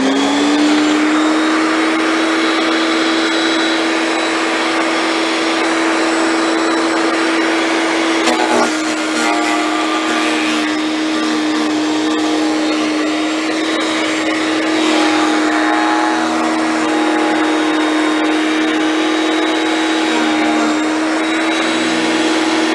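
A Portland garden shredder runs continuously, chewing through soft garden material with a loud, steady motor whine and a harsh roar close by, the tone dipping briefly as material feeds in.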